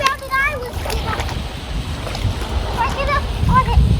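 Toy monster truck Earthshaker churns and splashes through a muddy outdoor puddle, a low watery sloshing under excited child-like chatter.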